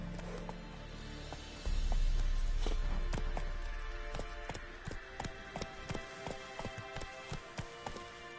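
Roach, the horse in The Witcher 3, gallops in the game: a short blowing rush first, then steady rhythmic hoofbeats, close and clear, with no talking.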